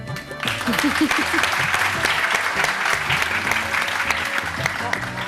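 Applause from a studio audience at a televised Iftar quiz show, a dense steady clatter of many hands filling the whole stretch, with a brief musical sting near the start.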